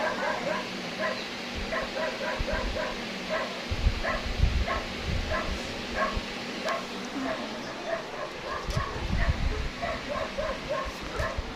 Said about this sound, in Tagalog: Pabayaan nyo lang yung tumatahol.